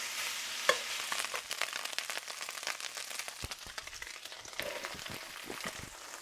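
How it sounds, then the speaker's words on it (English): Pork frying and crisping in a cast iron pan, giving a steady sizzle with scraping and stirring clicks throughout. "We're using a cast iron pan and spreading that meat out and let it get all crispy on the bottom."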